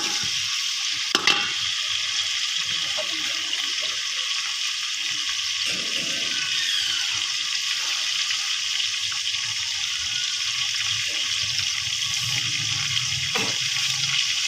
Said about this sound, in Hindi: ये घी गर्म होने के बाद इसमें गोश्त डालें। अब ये अच्छे तरीके से तल जाए।